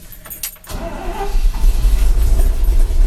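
An old tractor engine, cold after sitting all year, cranks and catches with the choke pulled, starting with a few sharp clicks before building into a loud, steady low rumble up close.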